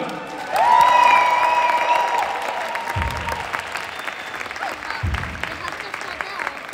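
Audience applause at a gymnastics club display, a Vejgaard Gymnastikforening show in 2025, with a whistle-like tone sweeping over broad crowd clapping that fades, then a few low thumps that could be stamping.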